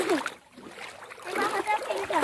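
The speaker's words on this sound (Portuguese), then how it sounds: "A água tá correndo" Water runs and splashes in a steady, noisy rush throughout, mixed with children's and adults' chatter close by.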